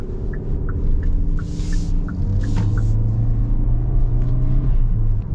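A 2024 Kia Soul driving, steady engine drone and low road rumble throughout, with faint rhythmic ticks and brief higher whooshes over the top, close and continuous.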